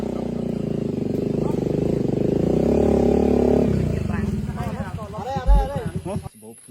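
A motorcycle climbs uphill on a dirt route to Virachey National Park in Cambodia. Its engine roars loud and close for several seconds, then drops away as people start talking.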